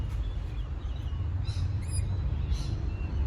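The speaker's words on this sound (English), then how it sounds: "you got some birds right up above." Birds call from the trees overhead in a park in East Perth, Western Australia: a few short, moderately close calls stand out briefly above a low, steady background rumble, with no talking.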